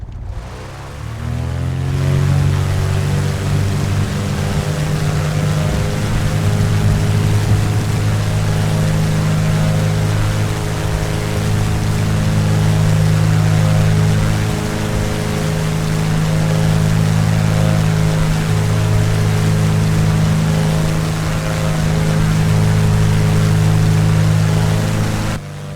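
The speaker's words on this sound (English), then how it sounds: "We're going to fire up our Lycoming O320B 4-cylinder, 4-stroke, air-cooled, horizontally opposed piston engine" A Piper Pacer's Lycoming O-320-B four-cylinder, air-cooled, horizontally opposed piston engine in Flight Simulator X starts up and settles into a steady, loud droning idle that holds for nearly half a minute with slight swells.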